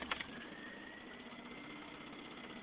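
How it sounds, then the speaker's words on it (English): A 1995 Geo Metro engine during a cold start, a low steady idling drone with faint mechanical vibration, heard fairly close and without talk. "Cold start."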